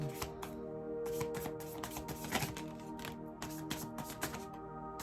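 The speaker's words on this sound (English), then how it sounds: "cards are shuffling funny" Playing cards shuffled in quick riffling bursts, crisp papery flutters repeating close by with brief pauses between them.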